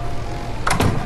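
Door opening in the video game ARK, a brief mechanical swoosh in two quick bursts near the end, moderately loud over a low background hum.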